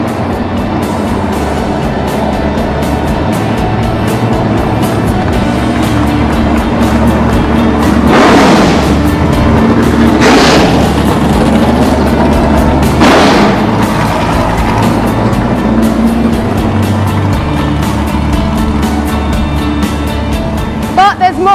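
A loud racing car engine roars throughout, with several sharp bursts of revving and crackling, up close and dominating the clip.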